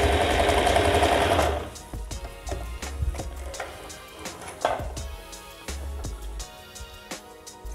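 An Usha Janome Dream Stitch automatic zig-zag electric sewing machine runs with a loud, dense whir for the first second and a half, then settles into quieter, evenly spaced ticking of the needle, close and with no voices.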